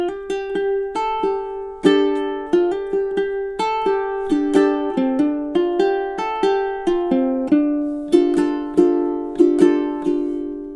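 Fingerstyle ukulele plays a minor blues passage, measures 5 to 8, near and clear, with steady plucked notes and chords ringing in an even rhythm throughout, no voice.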